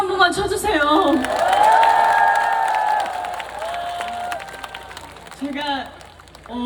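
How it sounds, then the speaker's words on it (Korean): An outdoor audience at the Imsil N Cheese Festival concert claps and cheers, a loud crowd swell with scattered shouts and whoops, while a performer's voice talks close over the noise. "여러분 박수 한 번만 쳐주세요."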